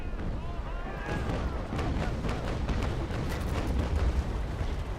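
Frigate cannon fire in Naval Action Legends: heavy booming shots rolling out in a rumbling volley, deep and sustained, with a spread of cracking reports over low thunder through the whole stretch.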